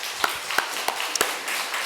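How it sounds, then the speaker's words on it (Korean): A church congregation applauding in worship: a handful of sharp, distinct claps ring out over a steady wash of room noise, brief and fairly close. "하나님께 영광의 박수 돌려드리겠습니다"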